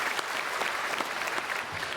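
A church congregation at a Sunday service at Myungsung Church claps together to bless the choir after its anthem, a dense, even wash of applause that holds steady and fairly loud throughout.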